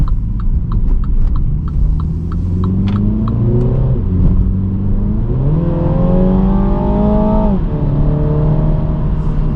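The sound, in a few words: four-cylinder car engine accelerating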